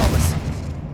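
Expelliarmus spell cast in Hogwarts Legacy, a short loud magical blast with a booming low-end burst that fades quickly over about a second.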